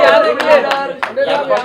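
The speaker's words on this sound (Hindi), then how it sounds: "उनके लिए जोरदार ताली करो आपस में सबको" A crowd claps loudly at a film festival launch for the Cine Still Association president, with several sharp bursts of applause mixed with voices and chatter.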